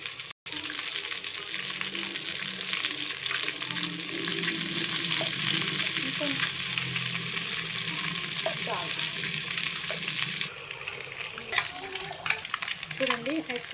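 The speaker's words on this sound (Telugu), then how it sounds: "ఎగ్స్ అయితే బాగా ఫ్రై అయిపోయి" Eggs with turmeric fry in a pan, a continuous close sizzle with faint crackles running for most of the clip, then dropping away near the end, where scattered handling noises and a voice come through.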